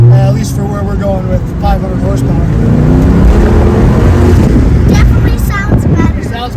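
A 500-horsepower SN95 Mustang on 2.5-inch exhaust pipes with Flowmaster mufflers rumbles loudly and continuously, with a voice talking over the engine noise.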